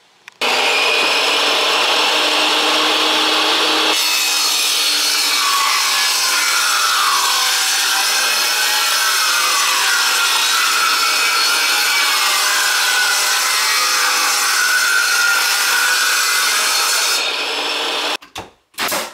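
Table saw ripping wooden slats down to 1.5 inches, a loud continuous high whine with rough cutting texture that holds steady for about seventeen seconds, then stops with a few knocks at the end.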